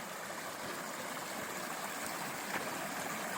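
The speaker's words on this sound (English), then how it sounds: "Oh, that's some water there." Stream water flows steadily beside a Colorado Trail trailhead, a continuous broadband rush and trickle heard close and even throughout, with no voices over it.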